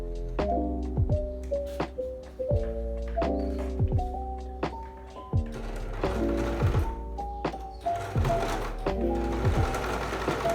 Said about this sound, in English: I'm going to do some top stitching.